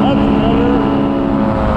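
A loud, steady engine drone holds throughout during a landing approach, a continuous close hum with no breaks.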